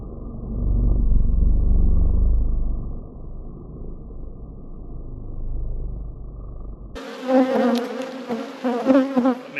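Honey bees swarm around an opened nuc hive in a beekeeping yard, a dense close buzzing that fills the first seven seconds before cutting to a different, lighter buzz of individual insects passing near.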